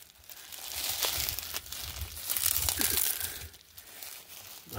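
Plastic packaging of a 3-in-1 charger being torn and pulled open by hand, a close, continuous run of crinkling and ripping with a few sharper crackles, no talking.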